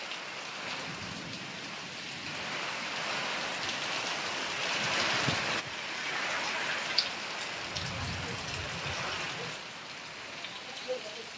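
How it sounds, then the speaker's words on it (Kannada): Heavy rain pours steadily in a village for over ten seconds, a dense, even hiss of drops on surfaces with faint low rumbles that may be thunder, and no talking. "ಮಳಿ ಬಾಳ ಆತೈತಿ ಈಗ."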